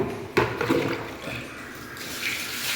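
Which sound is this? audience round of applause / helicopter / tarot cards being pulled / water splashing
water splashing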